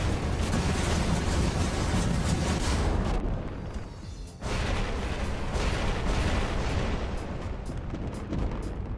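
Rockets exploding in the War Robots video game, a continuous dense barrage of booming blasts that drops away briefly midway before the heavy explosions resume.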